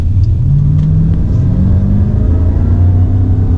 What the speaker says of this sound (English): that's extremely weird, hearing a supercharger whine in a Jeep